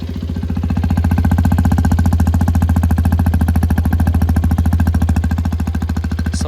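A motorcycle engine idles loud and steady after starting, a close, continuous rapid thumping that holds an even rhythm throughout, with no talk over it.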